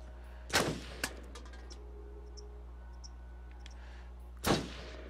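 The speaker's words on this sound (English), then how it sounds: "Congrats, you can shoot a gun." Gunshots from a gun in the Until Dawn video game: two sharp, loud reports about four seconds apart with a small click between, each ringing briefly over a quiet low hum.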